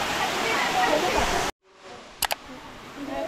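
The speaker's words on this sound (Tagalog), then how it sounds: "So, touchdown, Lambingan Falls." Lambingan Falls in Tanay, Rizal sends out a broad, steady rushing roar for a second and a half, then cuts off abruptly to quieter outdoor ambience broken by a couple of brief sharp clicks.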